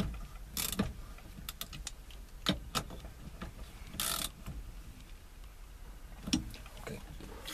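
A ratchet tightens bolts on a 1995 Jeep Wrangler in sharp, scattered clicking bursts with short pauses between, close and fairly quiet, with no talk.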